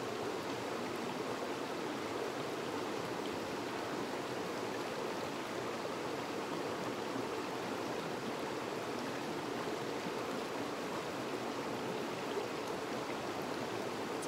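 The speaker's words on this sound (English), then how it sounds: "Taking the sound of the water." Water flows steadily as a continuous broadband rush, even and unbroken throughout, with no voices.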